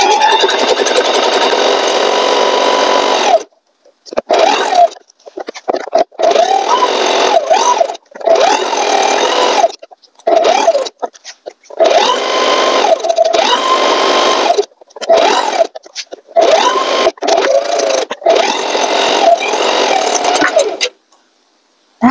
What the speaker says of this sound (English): So now we're going to just sew all the four edges round.